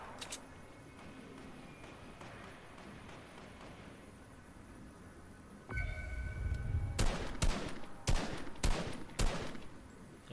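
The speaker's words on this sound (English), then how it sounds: "He's shooting." Enemy gunfire in a video game cracks out in a quick burst of several sharp shots near the end, following quiet ambient sound and a rumbling thump.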